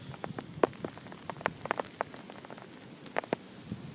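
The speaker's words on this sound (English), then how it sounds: "Rain's coming down. The wind picking up." Rain pattering during Hurricane Sandy, a steady hiss of falling drops with scattered sharper taps and crackles nearby, moderately quiet and with no voices.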